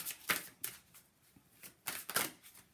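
Oracle cards being handled and shuffled to draw a second card, a few soft crisp riffles and slides of card stock in a quiet room, faint and close.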